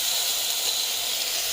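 Marinated fish sizzles in a hot frying pan, a steady close hiss of oil spitting that holds evenly throughout with no talking.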